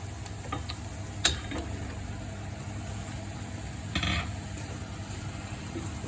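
Mushrooms are dropped into a pan of onions and spices for a masala curry, giving a soft steady sizzle with a couple of brief clatters and a short scrape of utensil against the pan.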